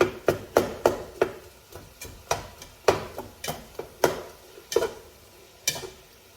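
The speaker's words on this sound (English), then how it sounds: "I'm gonna mix these. Continue breaking up sausage here." Mixing and breaking up sausage in a soup pot for kale and sausage soup: a run of sharp, irregular clacks and taps of a utensil against the pot, close and moderately loud, with no talking.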